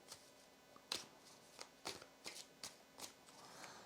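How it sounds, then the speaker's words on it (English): Tarot cards being shuffled by hand, faint and close, with a run of sharp riffling bursts and soft slides repeating at an uneven rhythm, no voices. "Let's shuffle the cards"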